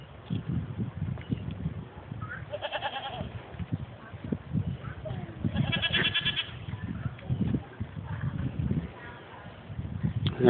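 Goats bleat repeatedly amid rustling and munching on wood nearby at a farm park, with a few faint voices in the background.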